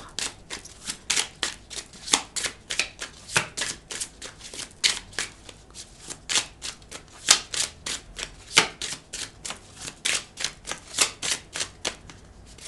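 Tarot cards are shuffled by hand in quick repeated riffling bursts, a steady rhythm of crisp papery flutters, close and clear with no talking.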